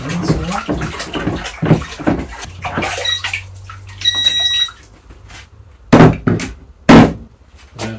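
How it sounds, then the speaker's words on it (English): Film developing tank filled with Pyrocat-HD developer being agitated, sloshing liquid and knocking thumps in bursts at close range, with a short electronic beeping timer midway. "Okay, agitate for 20 seconds."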